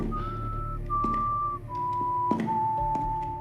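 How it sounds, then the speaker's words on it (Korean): A steady, tuneful whistle holding long notes that step downward, with a couple of dull knocks in the background, clear and alone. "다시 들려오는 휘파람 소리."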